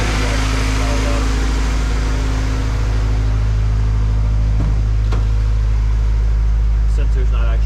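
A 1993 Honda Civic EG engine runs steadily after startup, a loud continuous low hum with a few brief clicks and a voice speaking over it near the end.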